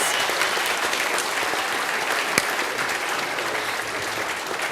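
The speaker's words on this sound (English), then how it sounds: "How about a round of applause?" A round of applause from an audience at a D-Day 75th anniversary event, dense and even clapping that stays loud and sustained throughout, with one sharper clap standing out midway.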